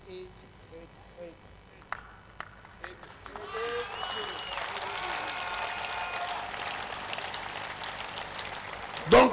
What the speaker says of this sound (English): Don't clap like you have not eaten food for 1 year.